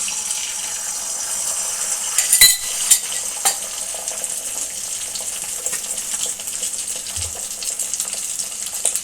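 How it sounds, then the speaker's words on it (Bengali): An egg cracked into hot oil in a wok sizzles with a steady, bright hiss, joined by a brief clatter of utensils near the middle. No one speaks. "কড়াইয়ে যে তেল তেল গরম হয়ে গেছে এর মধ্যে ডিমটা আমি দিয়ে দেবো"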